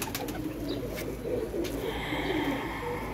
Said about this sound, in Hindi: ये जी कबूतर है।